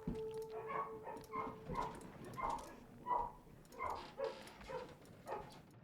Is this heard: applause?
no